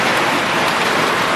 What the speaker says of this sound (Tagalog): Sobrang lakas kasi ng ulan.